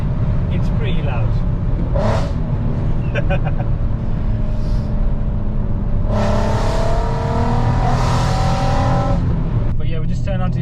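A straight-piped VW Golf R32 accelerates hard in second gear on a country lane, its loud exhaust droning steadily with a rising rasp midway, while a person talks over it.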